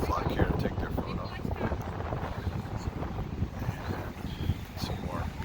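Gusty wind buffets the microphone on a beach in Punta del Este, Uruguay, a steady rumbling roar with brief louder blasts, and a voice speaks faintly under it.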